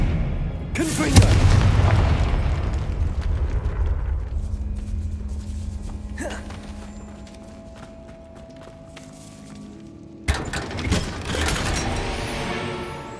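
A Confringo spell in Hogwarts Legacy bursts with a heavy booming explosion, followed by lingering rumble, scattered effects and a second sharp blast near the end.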